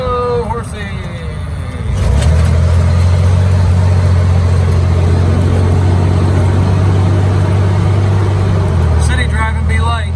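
Jeep engine humming steadily while driving through city traffic, a low continuous rumble that swells after a couple of seconds and holds, close and loud, with people talking briefly at the start and end.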